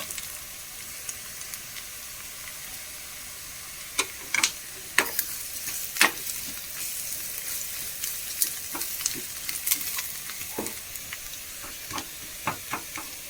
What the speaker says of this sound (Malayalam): ഒരു പച്ചമുളക് മാത്രമേ ചേർത്തിട്ടുള്ളൂ. ഇതൊന്ന് മൂത്ത് വരട്ടെ.